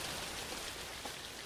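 Rain in a Chilla's Art horror video game hisses as a dense, steady wash of falling drops, fairly loud and without any voice.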